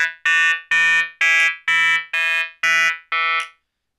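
A randomized dubstep synth noise hit played from Razor in Maschine sounds as eight sharp, buzzing tonal bursts in a steady rhythm, loud and clean with no talk.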